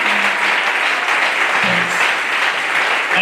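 A church congregation applauds loudly and steadily, with brief low voices and cheers rising under the clapping.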